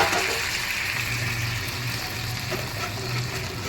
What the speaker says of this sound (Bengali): অল্প গরম জলটা দেব।